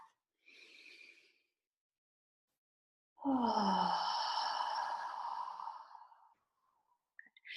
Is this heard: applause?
no